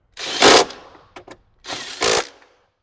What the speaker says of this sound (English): go ahead and tighten them all the way down